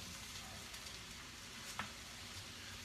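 Cauliflower sizzling in a pan over medium heat, a steady low frying hiss with one brief utensil scrape partway through, quiet and without talk.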